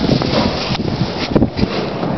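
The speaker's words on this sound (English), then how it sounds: "It's very windy." Strong gusty wind on a parking garage roof buffets the microphone in broad roaring rushes, loud and close, with brief dips and surges throughout.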